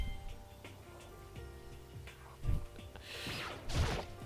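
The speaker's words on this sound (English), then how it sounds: "Clock." A clock in the game Danganronpa: Trigger Happy Havoc ticks in a quiet, steady rhythm, soft and close, with a couple of louder thumps mixed in and no voices.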